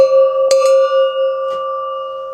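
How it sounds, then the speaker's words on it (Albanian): A Turkish livestock bell rings close and loud, with a clear sustained tone, two quick clanks near the start and a fainter strike later, the ring slowly fading with no voices. "Kjo këtu është zile turku."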